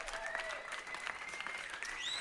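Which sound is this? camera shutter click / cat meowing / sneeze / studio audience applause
studio audience applause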